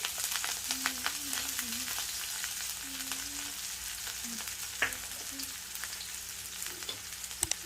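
Cabbage manchurian sizzles in a pan with spring onions and green chillies, a soft, steady frying hiss with occasional stirring scrapes and light taps, fairly quiet and without talk.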